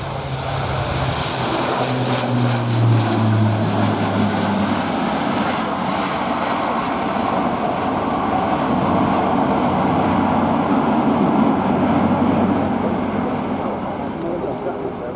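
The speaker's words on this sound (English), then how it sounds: "It may be a big beast of an aeroplane, this 4-turboprop airlifter, but it's one that shows a real turn of pace and agility in its display" A four-turboprop Airbus A400M Atlas airlifter performing a flying display at an air show, its engine roar loud and sustained with a droning propeller hum throughout, swelling slightly in the middle.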